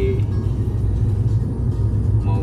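Mercedes-Benz C240 W203 with a V6 engine running, a steady low rumble from the motor at a constant pace, close and fairly loud with no voices.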